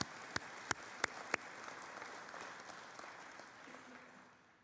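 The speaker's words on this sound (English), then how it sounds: "give a warm round of applause for the Alumni Association" Audience at an alumni awards celebration applauding, a few sharp close claps up front blending into broad steady clapping that gradually fades out.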